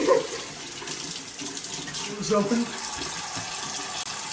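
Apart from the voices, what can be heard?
tap water running into sink for rinsing face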